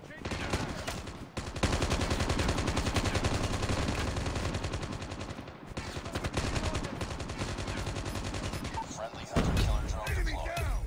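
Sustained automatic gunfire in Call of Duty Mobile, dense rapid bursts running almost continuously and loud, with brief pauses and a heavier burst near the end.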